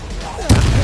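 The Incendio fire spell cast in the Hogwarts Legacy video game: a sudden loud fiery burst erupts midway and roars on, following a quieter stretch.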